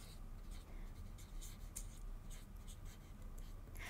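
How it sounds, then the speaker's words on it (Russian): Pen or marker writing on a paper sewing pattern, a faint close-up scratching made of short strokes in an irregular rhythm, with no talking. "Смотрите, я пишу."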